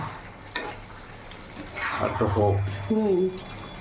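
Chicken curry stir-fries in a pan without water, with soft scraping stirs and a light sizzle under someone speaking.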